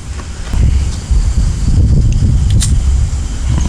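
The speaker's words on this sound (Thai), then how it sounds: "ลมแรงเลย" Strong wind blows at an abandoned crematorium. It is a loud, constant, low rumbling buffet across the microphone with faint rustling above it and no clear speech.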